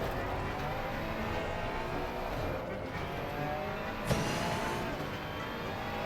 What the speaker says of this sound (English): Use all of the engine braking.